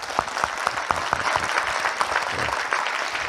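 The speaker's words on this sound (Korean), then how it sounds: "박수 한번 치다 이제." Applause from a congregation at a church seminar, steady close clapping with some distinct sharp claps throughout a short burst.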